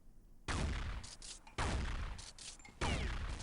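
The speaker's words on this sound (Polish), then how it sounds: "Gość strzela, ale nie trafił we mnie" Three long bursts of rapid automatic gunfire in Counter-Strike Online Hide & Seek on the Retro Town map, loud and close with brief gaps between them.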